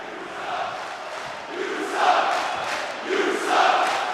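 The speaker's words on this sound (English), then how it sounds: "Listen to that crowd, they don't like this one bit." A wrestling crowd voices disapproval in swelling waves of jeering and shouting, rising and falling twice over a few seconds, heard from a distance without any nearby voice.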